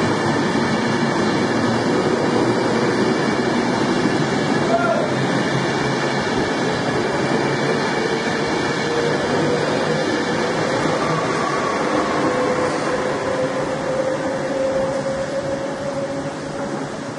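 A train pulls away from a platform on a cold day, its steady rumble and rail noise rolling on loud and close, with a faint rising whine under it. It slowly eases off toward the end, and no one speaks.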